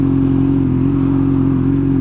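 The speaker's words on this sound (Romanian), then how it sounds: "Am luat motorul și mă plim puțin." Motorcycle being ridden on a road, a steady mid-pitched engine drone with a strong constant hum and slight clatter, close and loud, no speech over it.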